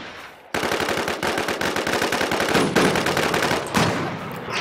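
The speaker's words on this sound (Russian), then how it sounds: "кто стреляет сзади М200?" Rapid, loud bursts of automatic gunfire in the online zombie shooter NewZ, dense and close, running almost without pause across the clip with slight dips between volleys.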